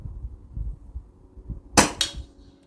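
An Air Arms S510 air rifle firing a single sighter shot outdoors, a sharp, close crack followed by a quick second snap, over faint low rumbling background.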